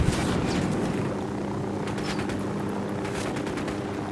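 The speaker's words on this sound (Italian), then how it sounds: "Se non mi elimino gli elicotteri è un problema qua" Helicopter rotor drone from the Ghost Recon Wildlands video game, a steady low throb that runs the whole time beneath dense bursts of gunfire and explosions, loud and continuous.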